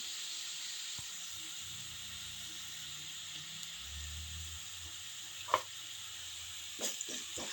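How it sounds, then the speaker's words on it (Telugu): Ginger paste frying with golden-browned onions in a pan: a steady soft sizzle and hiss, with a couple of faint utensil taps toward the end. "అల్లం పేస్ట్ వేసుకొని కొంచెం పచ్చి వాసన పోయే వరకు మంచిగా వేయించుకోవాలి"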